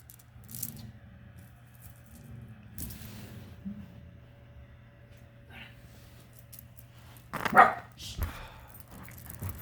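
A dog barks once, a short loud burst near the end, off in the room behind a quiet indoor hum with faint handling noises of beads and jewelry being sorted.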